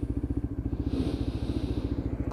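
A Lexmoto LXR 125 motorcycle engine putters at low revs with a rapid, even pulsing beat, close and steady as the bike slows down through the gears, with wind rush over it.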